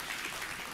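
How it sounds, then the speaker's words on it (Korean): Applause from a church congregation during a Sunday worship service, a brief, faint wash of clapping heard at a distance. "우리 하나님께 감사의 박수 올려드리겠습니다"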